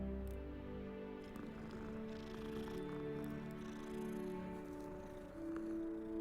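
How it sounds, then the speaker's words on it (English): A cat in Hogsmeade in the video game Hogwarts Legacy purrs softly, a faint continuous rumble mixed under gentle sustained game music. "Kitty! Oh, you're so pretty."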